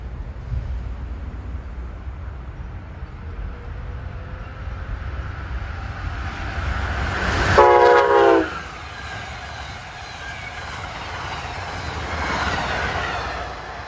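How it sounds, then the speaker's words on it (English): Amtrak 91, the Silver Star from New York to Tampa and Miami, passes the small Eddington station in Bucks County, Pennsylvania, with a steady rumble of rail cars and a loud, sustained horn blast partway through. "here comes Amtrak 91, the Silver Star, from New York to Tampa and Miami"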